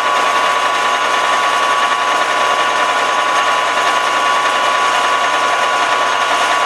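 A lathe drills into iron with chips packing into the bit's flutes, producing a steady, loud, broadband machining whir with a thin sustained whine throughout.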